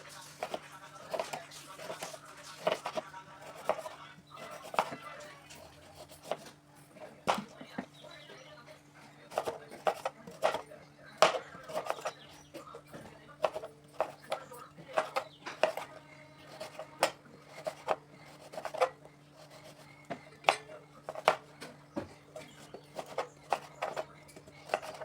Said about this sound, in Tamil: இப்போ ஸ்மாலாக சர்க்கிள் கட்டில் கட் பண்ணிக்கலாம்.